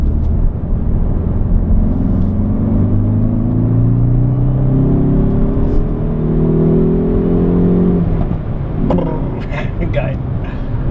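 A Hyundai i30N with 275 PS accelerates in N drive mode, its engine rising in loud, repeated revving sweeps that build and then drop, heard from inside the car.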